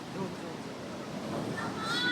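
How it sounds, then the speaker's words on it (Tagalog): Strong ocean waves at a beach in Morong, Bataan, a steady loud wash of surf with wind buffeting the microphone, building slightly toward the end. "Sobrang lakas ng alon."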